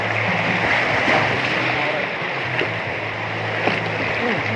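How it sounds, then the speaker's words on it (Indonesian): Strong waves churn through a river pool at Sumber Maron water park, giving a steady, loud broadband wash of rushing water with a low hum underneath, and brief voices cut in now and then. "Ini ombaknya agak keras"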